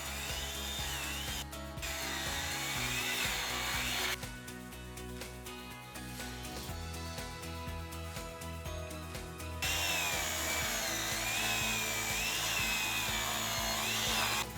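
A power tool cuts sheet metal for a homemade fire pit, with a continuous whirring, grinding tone that shifts in pitch as it bites. A rapid rattling, chattering stretch falls mid-cut, all close and steady with no talk.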